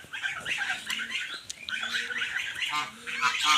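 Big domestic ducks squawk and quack in a busy cluster while a larger one attacks the smaller ducks, the harsh calls coming close and fairly loud in overlapping bursts throughout.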